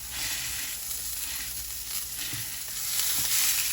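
A steak fries with butter in a frying pan just after flipping, producing a steady, hissing sizzle with faint crackles and pops, close and moderately quiet, with no talk.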